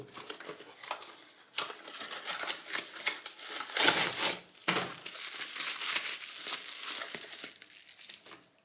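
Plastic packaging around a Baby Jam grater crinkles and rustles close by as it is opened, in irregular bursts of crackling and tearing with brief pauses between.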